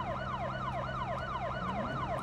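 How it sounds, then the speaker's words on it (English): A police car siren in the BeamNG video game wails in a fast, repeating up-and-down cycle, steady and continuous without talk. "I'm gonna turn off my sirens real quick."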